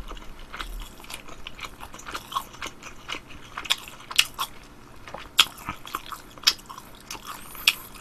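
Crunchy bites and chewing of Korean sweet and sour pork (tangsuyuk) sound close to the microphone, with irregular sharp crackles and moist mastication repeating steadily and no talking.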